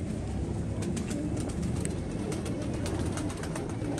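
Pigeons, including a black-faced pair, coo softly amid a steady wash of outdoor noise and light fluttering clicks, fairly faint and continuous.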